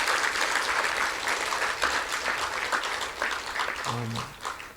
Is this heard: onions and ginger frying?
no